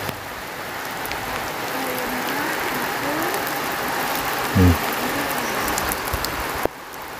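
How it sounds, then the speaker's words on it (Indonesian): Steady light rain falls around a garden hut in a vegetable plot, a soft continuous hiss of drops on surfaces, with a brief thud partway through and no talking. "Nah ini suasana hujan teman-teman."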